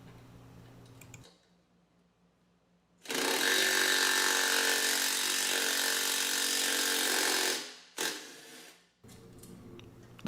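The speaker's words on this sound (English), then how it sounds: "I will again incorrectly use an impact to run them into the final location" Impact driver running nutserts into place on an ATV build, one loud continuous rattling whir lasting about five seconds, then two short bursts, with quiet gaps between.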